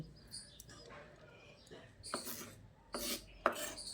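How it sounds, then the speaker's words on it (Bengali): A knife finely chopping onion on a board, a handful of irregular, close, soft chopping strikes over a quiet background. "তো দেখুন পেঁয়াজটাকে এইভাবে মিহি করে কুচিয়ে নিচ্ছি"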